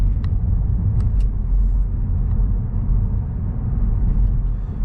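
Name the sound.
CorkSport axleback exhaust on 4th-gen Mazda3 accelerating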